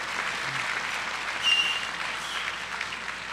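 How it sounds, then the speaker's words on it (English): Graduation ceremony audience applauding a top student, a steady wash of clapping from a large crowd, moderately distant, swelling briefly midway and continuing evenly without talk. "Yeah, you can clap for that."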